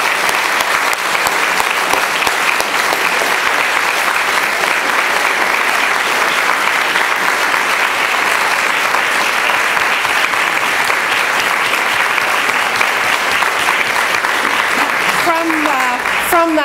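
Audience applause after an inaugural annual lecture, a dense, steady clapping that holds at full strength throughout, with no voices heard over it.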